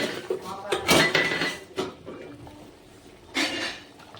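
A metal lid comes off a pot of village-style desi chicken curry with a few close clanks and scrapes, two sharper knocks a couple of seconds apart, and quiet background noise in between.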